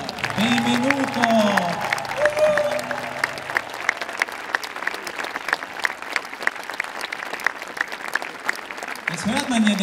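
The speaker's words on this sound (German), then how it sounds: "Muss man bis Wien hören, den Applaus." Warm applause from a gathered crowd greeting a cardinal at a Cenacolo welcome event. Steady clapping runs throughout, loud and close, with a voice speaking over the start and again at the very end.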